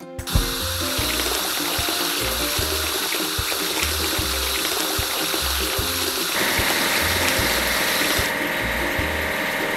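Water spray washes a timber loader over a steady mechanical hum, with hissing and splashing that change partway through and continue without pause.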